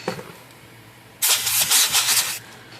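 A steady burst of blowing air hisses for about a second, loud and close, then cuts off, with quiet room noise before it.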